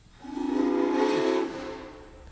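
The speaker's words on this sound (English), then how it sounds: "a lot of the engineers developed their own style for blowing the whistle" A single long steam whistle blast from Santa Fe 3751 steam locomotive, loud and tonal with a breathy hiss, sounding steadily for about a second before cutting off.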